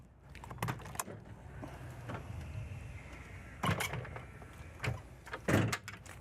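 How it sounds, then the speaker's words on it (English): The screen door of a 2023 Newmar Supreme Aire 4530 diesel motorhome gives off a few faint clicks, latch knocks and rattles spread irregularly over a quiet background, close to the listener. "Nice screen door right here that'll keep the bugs out."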